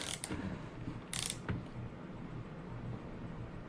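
Ratcheting tool cranked tight during a clutch install on a Redcat Rampage MT RC truck: a few quick clicky ratchet bursts early on, then a steady mechanical grind, close and fairly loud with no talk.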